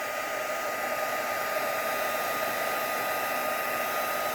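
A heat tool blasts hot air across an embossed window sheet in a papercraft project, a steady, loud, unbroken whoosh with no voices.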